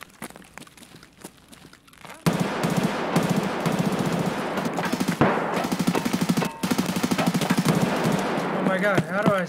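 Rapid automatic gunfire in the video game Escape from Tarkov, a few scattered shots at first and then sustained loud bursts of machine-gun fire for most of the stretch, with players talking over it.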